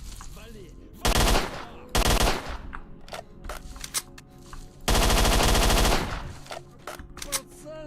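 Automatic weapon fire in the video game STALKER: Shadow of Chernobyl: loud sustained bursts of rapid shots, with shorter volleys and scattered single shots between them.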